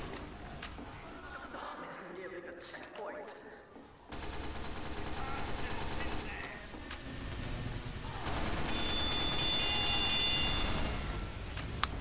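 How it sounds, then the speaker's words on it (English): Submachine gun fire in Team Fortress 2, rapid bursts of shots crackling amid busy game noise, with a player talking over parts of the action. "By the way, the submachine gun does a lot of damage"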